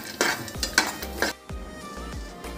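Dabeli masala peanuts being mixed in a pan, with several close spoon strokes scraping and clinking against the metal and a faint sizzle beneath, in uneven bursts.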